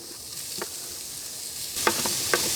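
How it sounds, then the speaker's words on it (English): Shallots and onions hit a hot pan for a fire-roasted Cajun gumbo, a steady broadband sizzle with a few sharper crackling bursts as the pieces land and are stirred, close and continuous, no voices. "we put in our onion shallots, and then we got green onions"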